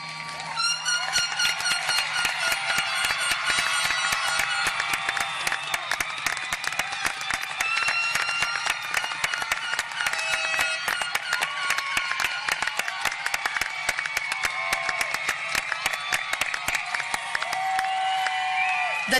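High school graduation audience clapping and cheering steadily for the seniors, a dense continuous patter of hands with whoops and shouts layered on top, sustained loud crowd noise from start to end.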